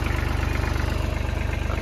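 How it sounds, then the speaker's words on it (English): A tractor engine idles steadily while warming up on a snowy driveway before plowing, its low rhythmic chug loud, close and continuous. "Let the tractor warm up a little bit."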